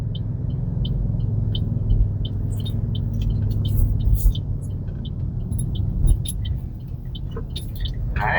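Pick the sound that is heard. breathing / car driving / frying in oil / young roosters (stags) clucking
car driving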